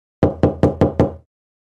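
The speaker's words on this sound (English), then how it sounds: "Suddenly there is a knock at the door." Five sharp, evenly spaced knocks at a door, loud and close, in quick succession followed by silence.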